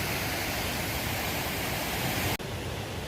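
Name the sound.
water flowing at a stream crossing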